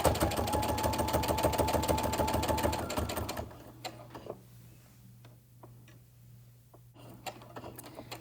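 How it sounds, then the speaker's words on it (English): A sewing machine stitches quilt binding in a steady rapid run for about three seconds, then stops, leaving only faint handling clicks and light rustles in a quiet room. "And then I start sewing again."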